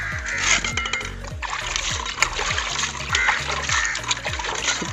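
Cut pieces of sea fish being washed by hand in water for a fish gravy, with repeated splashes, trickles and light clinks of a vessel in a steady rhythm, close by.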